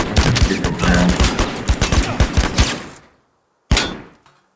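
Rapid bursts of gunfire in the shooter game Last Man Standing, loud and close for about three seconds, then silence broken by one sharp shot.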